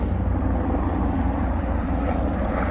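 A helicopter drones steadily overhead, a continuous, fairly loud rotor and engine rumble with no break, heard on its own without speech.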